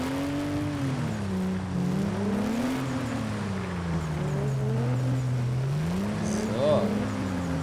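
Porsche race car engine drifting in an ice drift race, a steady droning engine tone rising and falling with revs, heard at a distance under voices.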